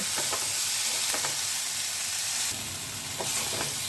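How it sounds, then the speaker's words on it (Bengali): Steady, dense sizzling of vegetables (potato, radish, eggplant, beans) frying with turmeric in a pan, with a few scraping stirs cutting through the continuous crackle. No voices. "সবজিগুলোকে একটু দু মিনিট মতন ভাজা ভাজা করে নেব"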